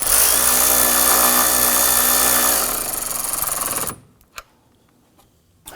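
Power driver snugging screws into an active grille shutter on a 2015-2020 Ford F-150, a loud continuous whir that slows and stops, followed by a few faint clicks.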